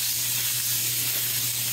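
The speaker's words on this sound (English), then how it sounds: "Waiting for the garlic to cook" Garlic cooking in oil in two stainless steel pans, giving a steady, close hiss and sizzle with a constant low hum beneath, continuous and unbroken with no voices.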